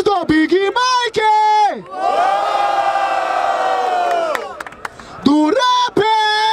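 A live crowd at a Brazilian rap battle semifinal shouts and cheers loudly for a rapper in a sustained roar. A host's amplified voice calls out over it before and after.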